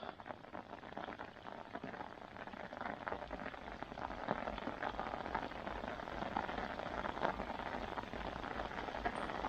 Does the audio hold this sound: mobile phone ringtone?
no